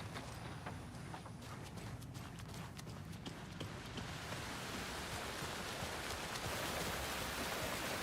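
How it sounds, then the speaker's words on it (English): Steady rain falls in Alan Wake 2, a dense even hiss that grows slightly heavier toward the end, with faint footsteps early on and no talking. "Why we are standing on a rainy day without an umbrella?"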